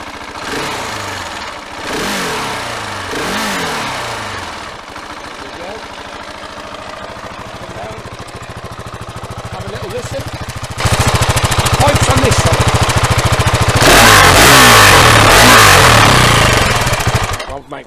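A 2022 KTM 690 SMC R single-cylinder motorcycle fires up close by, settling into a lumpy idle with a few blips before breaking into loud, sustained revving toward the end.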